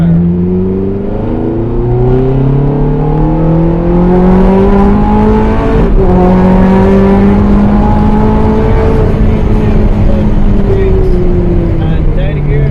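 An Abarth 500 accelerates hard on the Mondello Park race track, its engine note climbing in pitch through the gears with shifts about every few seconds, loud and close under an instructor's talk.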